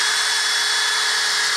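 Power drill boring a tap hole into a maple tree, a steady continuous whine that holds at one pitch, close and fairly loud, with no talk.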